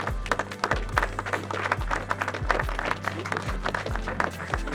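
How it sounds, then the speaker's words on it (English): Applause from a crowd at a fishing match event honouring the sponsor Alkanon, steady clapping over a low rhythmic thumping in the background, moderately loud throughout. "can we have a round of applause for Alkanon for sponsoring the event?"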